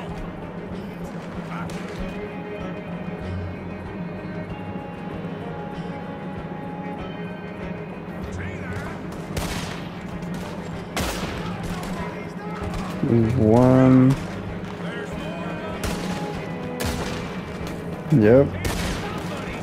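Gunfire from a rifle in Red Dead Redemption 2 rings out in a few sharp, loud bursts over steady background game ambience, with a brief spoken word mixed in.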